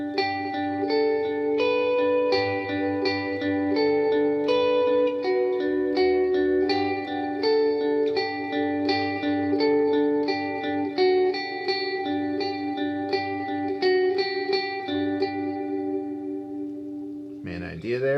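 Electric guitar plays a flowing lead run from a song, drenched in delay and reverb, echoes trailing behind each note, ending with a brief strum.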